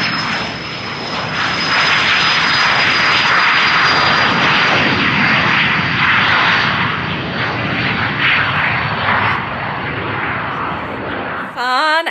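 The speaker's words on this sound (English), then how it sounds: "and we're gonna watch the planes." A fixed-wing airplane roars loudly as it flies overhead. The engine noise holds steady for about eleven seconds, then cuts off abruptly and a voice briefly starts.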